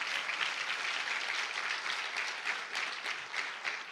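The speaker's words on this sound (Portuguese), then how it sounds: "Quem pode dar uma salva de palmas a Jesus?" A church congregation claps in steady, even applause, a soft, continuous wash of hand claps in a large room with no talking.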